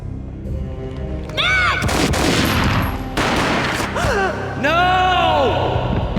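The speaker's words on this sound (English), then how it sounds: "A gunshot boomed and she fell down in slow motion." A booming gunshot in the Max Payne video game on PS2, followed by further loud blasts and rumbling, with pained gasps and a cry over the noise.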